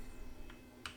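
Computer keyboard typing during a redox titration lesson, a few faint, sparse key clicks over a quiet hum.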